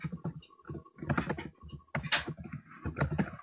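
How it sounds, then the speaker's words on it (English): Rapid clicking of computer keyboard keys comes in uneven bursts with brief pauses, close and fairly loud, and no voices over it. "Now you're showing off your typing skills, Dane."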